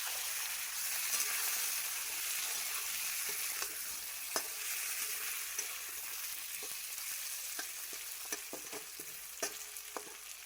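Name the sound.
tomato and potato frying while being stirred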